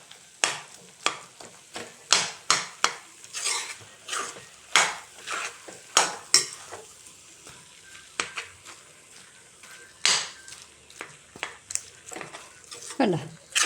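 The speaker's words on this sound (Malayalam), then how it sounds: "ഇതാ നല്ലപോലെ ഇളക്കി കൊടുക്കണേ." Jackfruit seed thoran with curry leaves being stirred in a pan, a steady run of scraping, clattering spoon strokes against the metal over a faint sizzle, close and fairly loud, with no talk.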